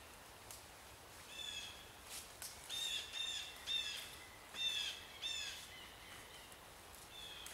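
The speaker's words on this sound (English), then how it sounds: "There is about 1 billion birds in the sky right now, or in the forest." Several birds chirp and call in a forest at an overnight bushcraft camp, bright repeated tweets coming in clusters at moderate distance over quiet background, with no talking.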